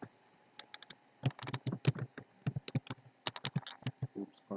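Rapid keystrokes on a computer keyboard, a quick irregular patter of close, crisp clicks in short bursts, with no talking.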